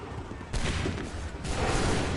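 Musket volleys crack out in Assassin's Creed III, two dense bursts of massed gunfire rolling in one after another at fairly close range.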